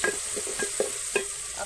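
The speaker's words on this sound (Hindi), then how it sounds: "अब प्याज को हम फ्राई कर लेंगे।" Lengthwise-sliced onions fry in hot cooking oil, with a steady soft sizzle and several spatula scrapes and taps against the pan at an uneven pace.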